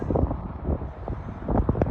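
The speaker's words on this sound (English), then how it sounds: "It's cold and windy" Cold wind buffets a microphone outdoors beside an RV coach with a constant low, rumbling roar that lasts the whole stretch.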